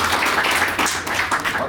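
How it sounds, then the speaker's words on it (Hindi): An audience in a hall applauds children at a community Holi gathering, a dense, steady wash of many hands clapping loudly without pause. "तो इन बच्चों के लिए तो जोरदार ताली बजाएं आप।"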